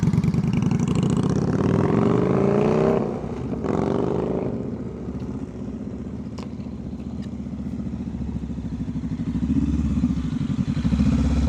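A motorcycle engine during slow-speed riding practice in Maryland, loud and close, rising and easing with throttle changes, a brief clatter breaking the continuous mechanical drone.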